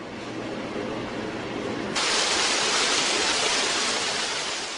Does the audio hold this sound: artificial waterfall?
yes